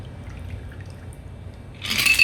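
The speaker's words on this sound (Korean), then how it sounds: "캡을 열고 잔의 밑부분을 잡아주시고 따라줍니다" After a quiet pause, a shaken apple martini is poured from the cocktail shaker into a glass in a short, splashy burst of liquid that ends abruptly.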